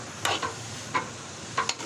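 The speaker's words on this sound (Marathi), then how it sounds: "तर आता मी त्याच मिश्रणमध्ये तेलात टाकले बारीक केलेला हा फ्लावर" Finely chopped cauliflower sizzles quietly in hot oil with a spice mixture, broken by three short scraping stirs of a spoon against the pan.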